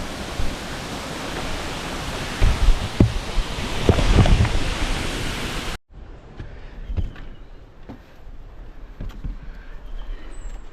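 Camugao Falls waterfall in Bohol, a dense broadband rush of falling water heard loud and close at first, then cutting to a quieter, more distant wash with faint knocks and rustles.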